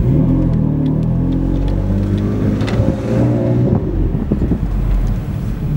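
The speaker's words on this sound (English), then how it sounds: "This, my friend, is a 2015 M4 with over 500 horsepower." A 2015 BMW M4 with over 500 horsepower accelerates hard on the road, its engine a loud, continuous low roar with gear-change surges and wind noise over the microphone. No one speaks.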